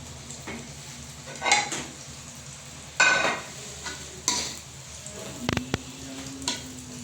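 Egg frying in a pan, a steady close sizzle broken by several louder bursts of clattering and stirring against the pan, with no voices.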